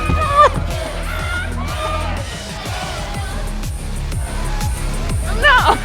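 A concert crowd moshing in Life is Strange: Double Exposure roars with cheering, whoops and yells over thumping, driving music, a dense continuous din with louder bursts near the start and end.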